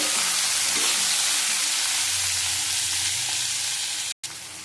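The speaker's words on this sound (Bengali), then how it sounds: "লঙ্কা দিয়ে দিলাম ফাটিয়ে ভালো করে ভেজে নেব" Green chilies frying in hot oil for a rohu fish curry, giving a steady, loud, close sizzle that runs unbroken and then cuts out for a moment near the end; no one speaks.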